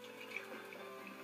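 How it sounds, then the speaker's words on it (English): Pickled pepperoncini juice pours from a jar into beef for drip beef sandwiches, a faint, steady trickling stream of liquid without pause, no voices. "It's a whole jar of pepperoncinis, and I add the juice and all,"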